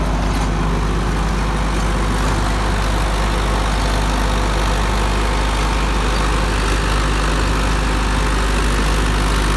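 An Indo Farm tractor runs with its rotavator lowered fully into the soil, a loud, constant, rough engine drone with a heavy low rumble that stays steady throughout with no voices.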